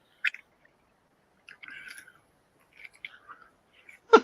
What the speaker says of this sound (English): Not only is he chewing, but you get the bodily noises.